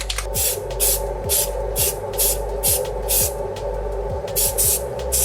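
Black primer sprayed from an aerosol can onto a model, heard as a series of short hissing bursts in a steady rhythm, close and fairly loud over a low background hum.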